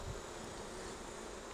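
Honey bees buzz around an open hive during a brood inspection, a faint, steady insect hum with no voices over it.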